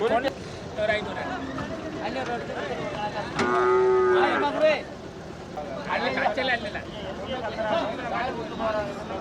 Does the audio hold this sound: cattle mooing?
yes